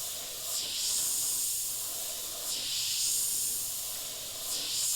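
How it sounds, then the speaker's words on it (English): An Iwata HP.CH airbrush blasts thinned paint in three repeated bursts, each a steady airy hiss lasting about a second, with quieter gaps between, close and fairly loud with no talking. "blast it through a couple of times, so make sure that thinner paint's flowing through"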